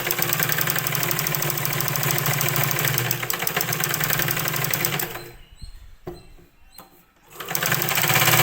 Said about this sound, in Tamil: அதே மாதிரி இன்னொரு பக்கமும் நான் மடித்து தையல் போட்டுக்கிறேன்.